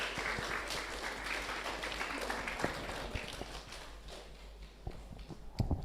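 An audience applauds after the declaration of a new president at a biennial general convention, with steady, fairly faint clapping that goes on throughout.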